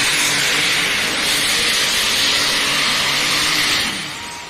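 A pulling tractor from North Carolina at a national tractor pulling championship roars steadily at high volume, a dense, hissing engine drone that holds constant before easing off slightly at the end.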